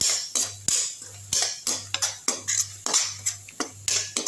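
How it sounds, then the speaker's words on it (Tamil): Repeated metallic scrapes and clinks of a utensil sautéing bitter gourd with turmeric in oil in a pan, in irregular bursts over a steady low hum. "இதை வதக்கி விட்டுலாம்"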